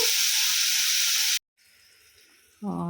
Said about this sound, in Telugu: తోటకూర ఫ్రై కోసం తాలింపు అయితే వేగిపోయిందండి ఉల్లిపాయ ముక్కలు పచ్చిమిర్చి ఎండుమిర్చి అన్నీ వేసాను తాలింపు వేగిపోయింది